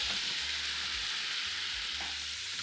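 Chicken browning in a frying pan for pizzaiola, a steady, even sizzle close by with no voices.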